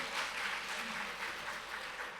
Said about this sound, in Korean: 박수로 우리 한번.